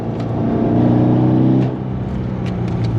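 A modded C6 Corvette Z06 pulls in third gear with a loud, deep, steady engine roar close by. The roar drops sharply about halfway through as the throttle comes off, leaving a quieter rumble with faint clicks.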